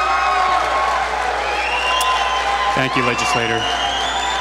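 A crowd claps throughout a public hearing in Binghamton on gas development, a dense, continuous wash of applause that fills the room while someone speaks over it.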